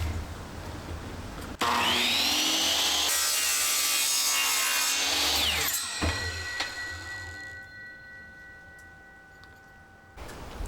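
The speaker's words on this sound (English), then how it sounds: "Since this is aluminum, I can chop it right on a regular wood blade on my chop saw." A chop saw fitted with a wood blade cuts through aluminum track, a loud, harsh whining screech through the metal for several seconds, then the motor spins down and fades with a ringing tone.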